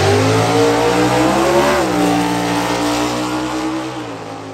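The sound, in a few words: Hemi drag racing cars racing at NHRA U.S. Nationals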